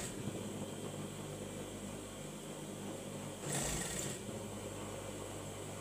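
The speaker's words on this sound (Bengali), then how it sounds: "তো এইভাবে আমি আস্তে আস্তে ঘুরিয়ে পুরোটাই সেলাই দিয়ে দেবো।" A sewing machine runs a continuous, steady mechanical whir while stitching the side seam of a six-panel round-neck dress, with a brief louder surge near the end.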